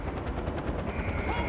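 Rapid gunfire in Far Cry 4, aimed at the player, comes as a dense, fast rattle of shots lasting about a second and a half, fairly loud and close against a rumbling background.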